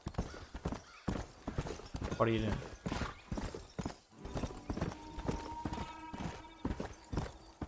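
A horse ridden in the video game Red Dead Redemption gives a steady clip-clop of hooves with a brief neigh partway through. Someone talks over the galloping.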